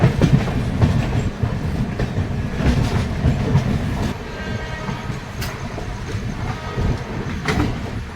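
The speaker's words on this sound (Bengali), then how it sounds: "আমাদের সাথে সাথে হাওড়া কালকার নেতাজি এক্সপ্রেসের রেক স্টেশনের দিকে নিয়ে যাওয়া হচ্ছে" The Howrah-Kalka Netaji Express rake rolls past on the adjacent track toward the station, heard from inside a moving train as a loud steady rumble with repeated clickety-clack wheel beats and clanks, no voices.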